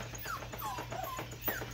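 A dog whimpers and yips in short, high, wavering cries while playing with a ball, several brief whines close by over a steady low hum.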